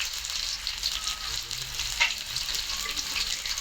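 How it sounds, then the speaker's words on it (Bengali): Onions, oil, green chilies and salt frying in a pan, giving a steady, close crackling sizzle with faint stirring scrapes throughout. "পেঁয়াজ দিয়ে দিলাম, তেল, পেঁয়াজ, 5-7টা কাঁচামরিচ, লবণ দিয়ে দিলাম পরিমাণ মতন।"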